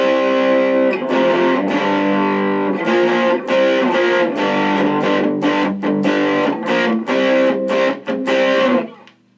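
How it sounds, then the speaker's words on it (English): An electric guitar played through a Boss turbo overdrive effect, run through a Boss Katana Mini amp and Boss ME-80 processor, gives loud sustained chords with rhythmic strummed attacks that end abruptly. "Turbo overdrive."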